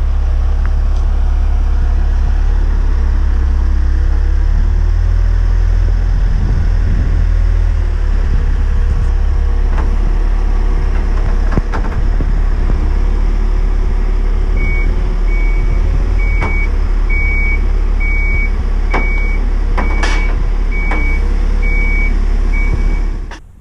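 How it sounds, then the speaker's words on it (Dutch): A work vehicle moving a pile of sand drones with a steady low engine rumble, while a series of reversing beeps chirps faintly in a regular pattern partway through, and no voices are heard. "En Nick die komt even helpen met de leukste auto van de zaak."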